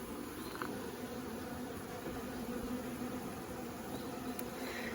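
Agitated honey bees swarming around an opened hive during a nuc installation: a dense, continuous droning buzz of many insects, steady and fairly close, with no talking.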